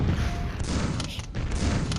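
Grenades bursting in a dangerous room of Quake, level Ziggurat Vertigo, a dense run of dull booms and crackling blasts that overlap without pause across the whole stretch, loud and close, with no break between detonations.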